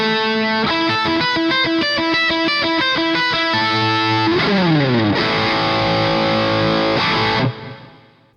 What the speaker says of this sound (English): 80s inspired high gain lead tones